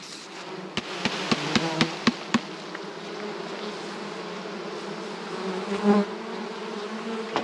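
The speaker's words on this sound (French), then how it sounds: "je vais juste, hop, faire redescendre les abeilles" Many honeybees buzzing around a hive frame in a steady drone up close, with a short run of sharp knocks near the start.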